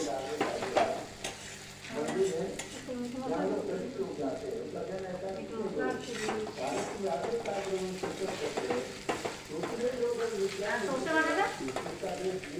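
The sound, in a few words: spices frying with mustard paste in a pan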